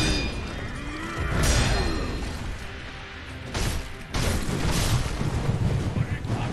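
Firecrackers set off in Sekiro: Shadows Die Twice crack in a few sharp, loud bursts amid rumbling combat noise, with bangs clustered around the middle of the short stretch.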